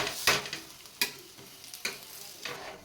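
Chapati paratha cooks on a hot tawa after being flipped, with a faint steady sizzle broken by four sharp scraping or pressing touches spaced roughly a second apart, close and quiet, with no talking.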